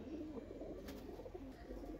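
Pigeons coo in a loft among several kept birds, a low, continuous murmur of soft overlapping calls close by, with no voices.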